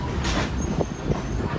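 A heritage railway museum train in motion, a steady close rumble with faint clicks and a brief hiss, running continuously without talk.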